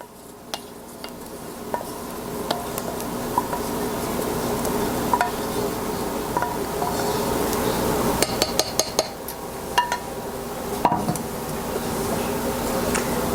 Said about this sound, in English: we're going to mix this thoroughly with the potatoes